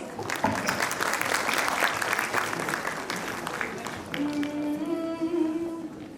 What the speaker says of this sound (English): Applause for our parents.